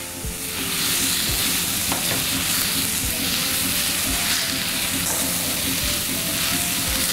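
Noodles with peanut sauce being stirred in a hot pan, a dense steady sizzle with scraping stirring knocks repeating throughout, close and loud, no speech.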